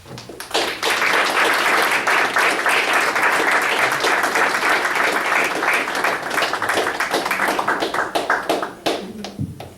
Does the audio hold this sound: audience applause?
yes